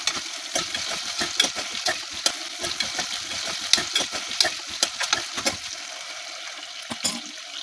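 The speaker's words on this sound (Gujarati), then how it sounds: "30 સેકન્ડ માટે આપણે આ રીતે હલાવી લઈએ" A spatula scrapes and stirs spices and potatoes sautéing in a pan, giving repeated irregular scraping strokes over a soft, continuous sizzle, close and moderately loud.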